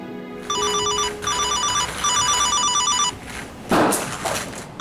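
A phone rings in repeated bursts of a bright electronic ringtone, fairly close, with a short clatter near the end.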